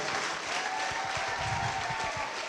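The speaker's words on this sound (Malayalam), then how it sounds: "ക്ലാപ്പ് കൊടുക്കുക" Applause fills a hall at an exam orientation camp, a dense, steady spread of many hands clapping together from start to finish with no voices on top.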